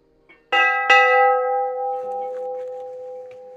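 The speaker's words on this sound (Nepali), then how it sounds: "दुईटा घण्टी पनि रहेछ" Two temple bells at a Shiva-Parvati shrine by a huge stone are struck twice in quick succession, close and loud, each ring leaving a long bright metallic hum that slowly fades.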